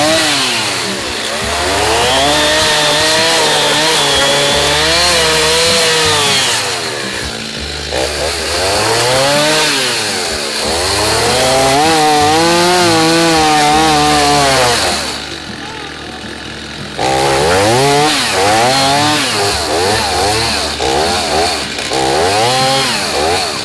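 Chainsaw fitted with a new blade cutting down a swamp cabbage palm tree, the motor snarling loud and close in repeated rising and falling revs as it bites through the trunk.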